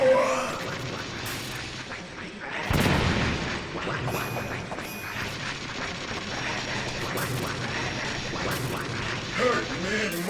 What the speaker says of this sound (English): So we've got some grenades, so I'm going to chuck some grenades at him